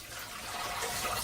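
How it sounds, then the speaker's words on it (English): Hot water poured into a sink during a wet shave, a steady splashing, gurgling stream that runs close and continuous for a moment. "So there we go, I'm pouring the water."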